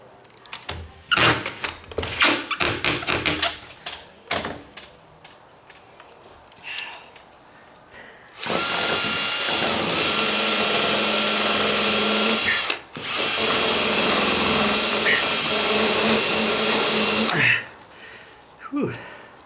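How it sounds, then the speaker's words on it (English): A power drill works at a door rubbing on its threshold, two long loud whining bursts of about four seconds each with a brief stop between, preceded by clattering knocks and handling noises and heavy breathing, close up. "Let's see if I can turn my drill a different way."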